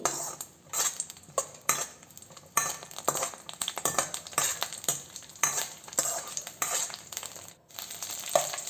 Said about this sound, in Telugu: దీన్ని బాగా ఫ్రై అయ్యేంత వరకు ఫ్రై చేసుకుందామండి. లో ఫ్లేమ్లోనే ఫ్రై చేసుకోవాలి.